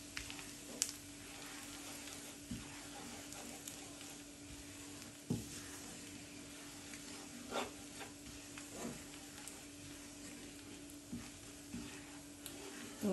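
Tadka for dhaba-style toor dal, with Kashmiri red chili and crushed chili powder, sizzles in a pan over a medium flame. A soft, steady frying hiss carries scattered small crackles and pops, with no talking.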